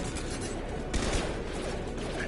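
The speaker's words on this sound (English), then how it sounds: "Firing concussive shot." A concussive shot ability firing in Mass Effect 2, heard as one sharp, heavy blast partway through over a steady, loud layer of combat noise.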